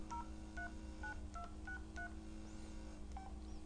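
Keypad presses on an LG Rumor LG260 Virgin Mobile phone sound a quick series of about seven DTMF dialing beeps, short and evenly spaced, over a steady low hum.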